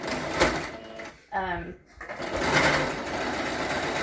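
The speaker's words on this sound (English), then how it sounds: "So we're just going to stitch around this, and again, it's just a 3/8 inch seam." A sewing machine stitches a 3/8 inch seam over elastic with a steady mechanical whirring that pauses briefly and then resumes, while a person talks over it.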